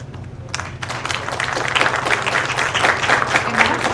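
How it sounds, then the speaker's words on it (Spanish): An audience at a lecture on landslide investigation applauds the engineer, the clapping starting softly and swelling into a dense, sustained ovation over several seconds, with a low hum running underneath. "Un fuerte aplauso a la ingeniera."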